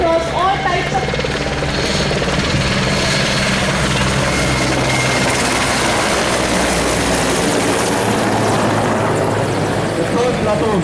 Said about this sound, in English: The pilot of this helicopter is Commanding Officer of 122 Helicopter Flight, Wing Commander M. Shailu, Y. Senavadi